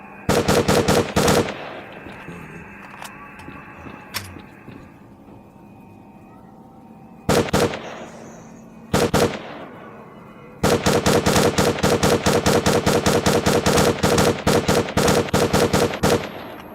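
Automatic rifle gunfire in the shooter game S.T.A.L.K.E.R.: Clear Sky, loud and close: rapid bursts, a couple of short volleys, then a long sustained string of rapid shots, with quieter ambient game noise between.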